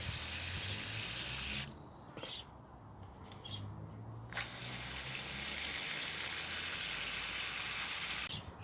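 Water pours steadily from a hose or can onto container-grown lettuce and other plants in a UK allotment garden on a hot day. The rushing flow breaks off briefly, then resumes, loud and close.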